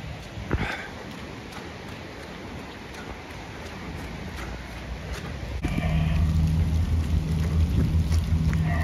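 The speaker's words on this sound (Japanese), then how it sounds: "雨降ってるわ" Steady rain falling in Nakanoshima Park, Osaka, a continuous close hiss that thickens and grows louder partway through, with a low rumble underneath.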